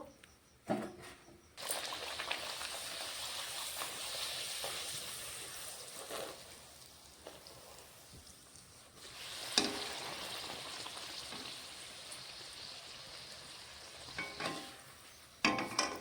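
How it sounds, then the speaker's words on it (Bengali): Luchi puffed flatbread fries in hot oil with a steady, moderate sizzle that swells in sharp bursts as dough hits the oil or puffs, then settles back to a constant hiss. "এভাবে দেখো কি সুন্দর ফুলেছে, ফুলকো ফুলকো লুচি। এভাবে সব ভেজে নেব।"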